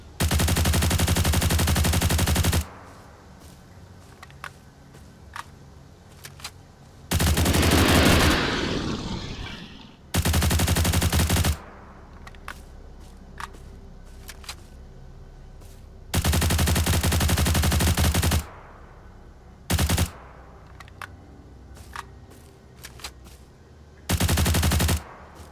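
Bursts of KBX WZ88 gunfire in the video game STALCRAFT, heard as loud, close automatic volleys lasting a second or two each, separated by quieter gaps with faint ambient noise.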